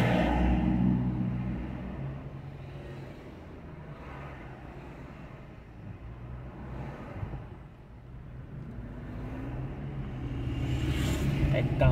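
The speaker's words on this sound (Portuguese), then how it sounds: "É carro demais na rua, né?" Heavy traffic on a busy São Paulo street, cars idling and rolling past in a steady low rumble with engine swells near the start and end, while someone talks over it.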